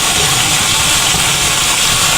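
Hot tap water gushes steadily over cooked ground beef in a strainer, a loud, close, continuous hissing rush with no pauses and no talking.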